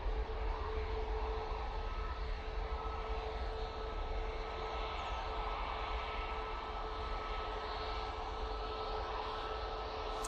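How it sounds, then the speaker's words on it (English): An easyJet Airbus A320-200 departing Manchester Airport for Dalaman produces a continuous, even jet roar with a steady whine running through it, distant and unbroken, with no voices. "Easyjet's off to Dalaman. He's an A320-200 for that flight."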